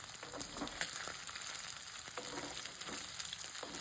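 Ginger garlic paste fries in hot oil for a homemade chicken fry, producing a soft, even sizzle with faint crackles that holds steady throughout, with no voices.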